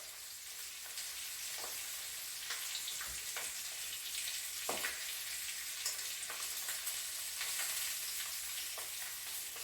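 Chicken browning in hot fat for chicken cacciatore sizzles in a steady, close, dense crackle, with a few soft stirring scrapes and spatters breaking through now and then; no one speaks.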